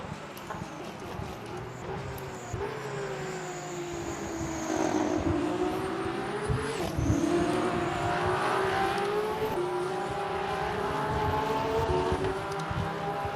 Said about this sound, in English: That Alpine Hypercars sounds angry